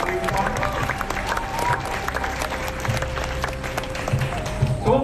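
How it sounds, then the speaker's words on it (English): An audience claps at a tiger show on Tiger Island on the Gold Coast, with scattered applause and light crowd murmur; a faint whistle-like tone runs underneath and some brief knocks and rustles break through near the end. "Let's give her a round of applause."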